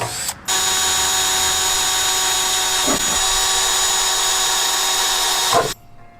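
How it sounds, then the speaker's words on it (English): A power drill whines steadily as it drills holes into a metal pan for several seconds, close and loud, with a brief start and a clean stop. "So all I got to do now is just drill the holes in the pan."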